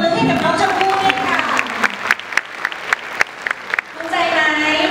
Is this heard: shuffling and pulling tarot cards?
no